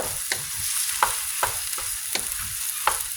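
A spoon stirs vegan crumble keema with onion and tomato in a hot pan, giving rhythmic scraping strokes about every half second over a steady sizzle.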